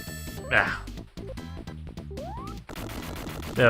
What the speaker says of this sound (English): that's a cool explosion